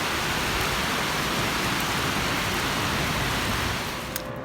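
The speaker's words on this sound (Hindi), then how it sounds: "तो बारिश हो रही है" Steady, dense rain hissing continuously with a constant wash of drops, loud and close, fading slightly at the very end.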